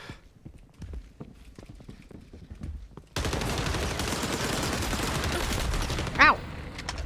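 AK assault rifle firing in the video game XDefiant: a quiet stretch of scattered clicks, then loud, continuous automatic fire that holds steady to the end, with a sharp spike near the finish.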